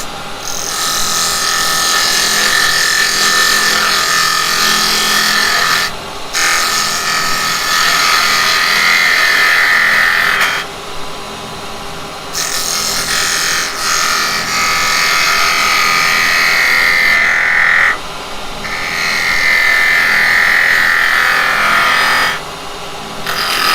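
Wood spins on a lathe under a carbide turning tool, loud, close shrill cutting and scraping bursts that start and stop several times, with brief quieter gaps where the lathe hum continues alone.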